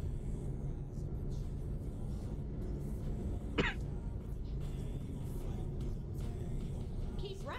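A single short cough or throat clear from a man playing American Truck Simulator, heard once over the steady low rumble of the truck's engine.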